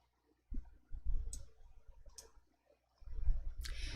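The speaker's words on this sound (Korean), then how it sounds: "확인을 클릭해 주세요" Computer mouse clicking during spreadsheet work in Excel, a few quiet, sharp, close clicks spaced apart, with soft handling noise and desk rustle between them in an otherwise quiet room.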